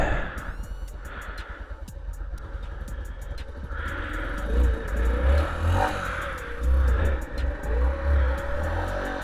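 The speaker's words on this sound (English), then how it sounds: "it's just a kickstart, a bit of choke, probably needs a bit of warming up, and then first kick. So I'll just let it warm up slightly." A 2000 Yamaha YB1 50 Four motorcycle's small single-cylinder engine idles unevenly after a kickstart with choke, warming up up close; the engine swells louder with occasional revs in the second half.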